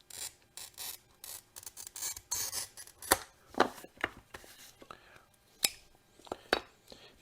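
A glass cutter scores leaded glass in close, crisp scratching strokes, a series of sharp rasping bursts and small clicks at an uneven rhythm, fairly loud and without talk over them.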